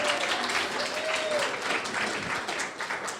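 Steady audience applause fills a panel room at a youth novelists convention, a continuous wash of many hands clapping at moderate volume with no clear gaps.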